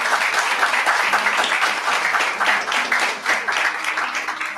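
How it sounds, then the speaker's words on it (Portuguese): Church congregation clapping together during a worship service, a warm, continuous wash of applause with slight swells, moderately close and without speech on top. "Um aplauso a Jesus pela vida deles."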